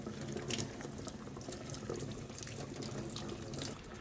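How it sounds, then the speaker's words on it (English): Cold water from a kitchen tap runs in a steady stream over leeks being washed, a continuous close hiss and splash with small fluctuations throughout. "place under a steady stream of cold running water"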